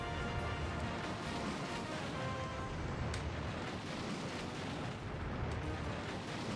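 Missile barrage explosions in Kirby's Return to Dream Land Deluxe roar as a dense, continuous wall of blasts, loud and unbroken throughout with no gaps.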